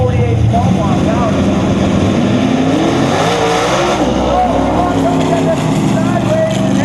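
A 509 cubic inch big-block Chevy Nova roars down the drag strip at Montgomery in an X275 race, loud sustained engine howl with shifting pitch as it pulls away, a commentator talking over it.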